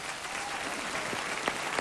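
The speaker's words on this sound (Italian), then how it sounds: "applausi grandi" Audience applause for a singer at a Sunday concert, a dense continuous wash of many hands clapping at steady loudness, with a few sharper claps near the end and no talk over it.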